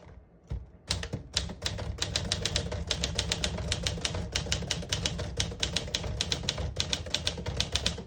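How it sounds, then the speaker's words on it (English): A 1954 Smith-Corona Super portable typewriter types in red ribbon, crisp keystrikes snapping in quick, fairly even bursts at close range after a brief pause, with a few heavier clacks in between. "Beautiful typing machine."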